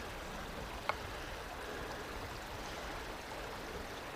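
A river flows beside a narrow path under oak trees, giving a steady, soft rushing wash throughout with one brief faint tap early on.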